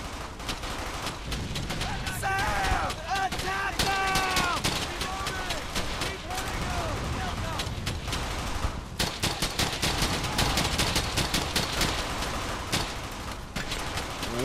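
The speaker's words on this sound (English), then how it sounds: "Look at that fucking machine gun." Bursts of machine gun and rifle fire crackle through a World War II firefight in the video game Brothers in Arms: Hell's Highway, with dense rapid volleys and scattered shots throughout, and someone talks now and then over the battle.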